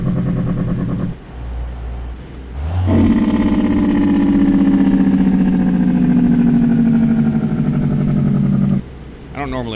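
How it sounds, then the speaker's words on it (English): A loud Peterbilt 389 truck engine in American Truck Simulator drones steadily, revving up and holding a high, sustained roar for several seconds before dropping back down. "I wanted you to hear the awesome sound of this engine"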